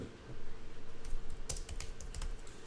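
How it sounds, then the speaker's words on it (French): Rapid, uneven clicking of fingers typing on a computer keyboard while text goes into a new document, close and steady with a brief denser burst of keystrokes midway. "si je tape du texte"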